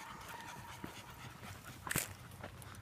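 Dogs pant quietly on a trail at Hidden Lake in Boeing Creek Park, soft rapid breaths with a brief louder huff near the end, heard faintly against outdoor background.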